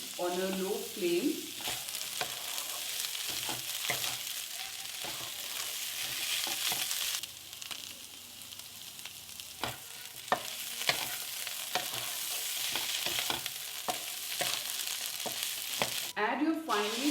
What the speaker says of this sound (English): Stir and cook them for 4 to 5 minutes on a low flame.